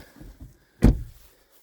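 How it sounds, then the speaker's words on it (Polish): A Peugeot 308 1.6 HDi hatchback from 2017 has its door swung shut with one solid, close thump, preceded by faint shuffling and followed by a short fade. "I ok, zamykamy drzwi."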